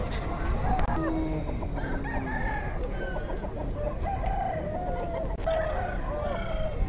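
Country chickens and roosters at a busy poultry market, with repeated clucking and several crows overlapping at moderate distance over a constant crowd murmur and faint voices in the background.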